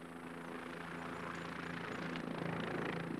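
A helicopter flying over rugged terrain, a steady broad rotor and engine drone that holds even and fairly distant, building slightly louder toward the end.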